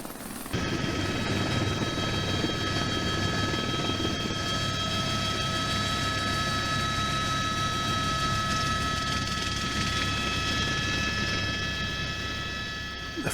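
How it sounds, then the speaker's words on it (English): A helicopter drones steadily and loudly with a constant whine and rhythmic rotor chop, flying over a glacier in New Zealand, sustained without pause from start to finish. "The helicopter returns to the glacier to pick us all up."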